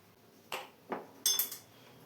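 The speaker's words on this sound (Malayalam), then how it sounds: "എല്ലാം കൂടെ ഒന്നുകൂടെ ഒന്ന് മിക്സ് ചെയ്ത് കൊടുത്തിട്ടുണ്ട്." A spoon scraping and knocking in a pot of coconut milk payasam as it is stirred, three separate short clinks and scrapes, fairly close, with no voices.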